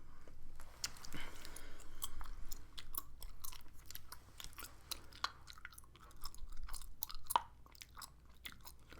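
Gum is chewed close up in a quiet room, with continuous soft wet smacks and small crackling pops in an uneven rhythm and no talking.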